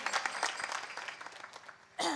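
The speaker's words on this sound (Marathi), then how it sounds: "एकदा गायक वादकासाठी टाळ्या वाजवा बरं" An audience at a kirtan claps for the singers and musicians, a faint, distant patter of scattered claps that swells briefly near the end.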